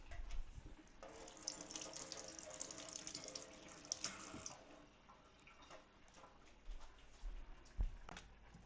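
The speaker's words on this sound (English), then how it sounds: "I'm going to grab about 2 green onions, give this a rinse" Tap water runs into a sink while green onions are rinsed under it, a close steady splashing stream with small drips and clatters, easing off toward the end with a few sharp knocks.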